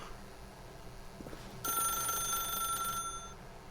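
An old-style telephone bell in The Stanley Parable video game rings once, a bright metallic trill lasting just over a second, fairly close and clear over a low ambient hum.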